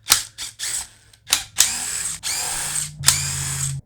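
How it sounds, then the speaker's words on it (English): A power driver removes T25 bolts from a STIHL MS-270 chainsaw, firing in several short whirring bursts with ratcheting clicks, loud and close, separated by brief pauses. "Let's go ahead and get these T25 bolts out."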